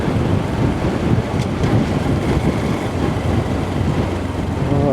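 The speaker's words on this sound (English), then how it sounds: "It is quite windy, as you might be able to hear." Strong wind buffets the microphone during a motorcycle ride from St Keverne toward St Martin in Cornwall, a steady, dense roar that stays loud and continuous throughout, with no voices heard.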